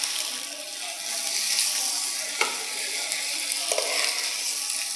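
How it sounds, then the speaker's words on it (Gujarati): Boiled potatoes being stirred into a sizzling dabeli filling in a pan, steady frying hiss with a couple of soft scrapes of the spoon. "બાફેલા બટેટા જે હતા એ એડ કરી દઈએ છીએ. આને આપણે મિક્સ કરી લઈશું."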